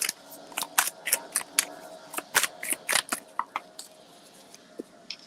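An oracle card deck is shuffled by hand, a rapid run of crisp, close riffling snaps and slaps in quick bursts that thin out into a few scattered taps near the end.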